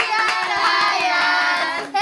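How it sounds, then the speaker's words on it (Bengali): Family members clap hands at a child's birthday at home, a quick uneven patter of claps over a sustained sung or hummed tone, close and lively. "হ্যাঁ, হাততালি হাততালি হাততালি"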